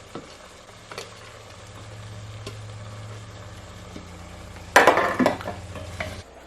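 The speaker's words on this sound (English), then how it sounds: "I'm gonna fry this onion also with this meat." Meat and onion fry in hot olive oil for a Persian ghormeh sabzi stew, a constant close sizzle that swells into a loud crackling burst of stirring near the end before settling again.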